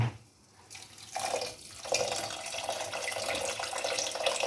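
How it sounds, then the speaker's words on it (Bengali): Water poured steadily into a pressure cooker over lentils and rice for dal khichuri, a continuous splashing stream that starts after a brief pause and keeps running loud and close. "এরপর বাকি জলটা আমি দিয়ে দেবো"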